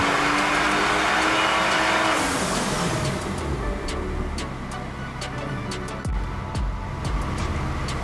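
BMW F30 with a bolt-on tune on a dyno, its engine roaring loudly as revs climb steadily, then easing off midway with sharp pops and crackles on the overrun.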